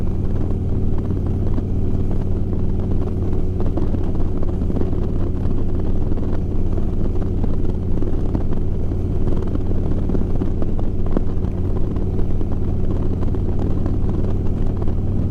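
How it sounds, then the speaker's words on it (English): A motorcycle carrying a passenger two-up, its engine a steady, loud drone with layered wind noise and no clear break between gears. "So I'm going to shift up again, so I give it a little throttle."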